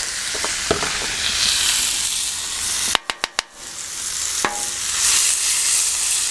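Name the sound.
chicken and steak sizzling on a Blackstone griddle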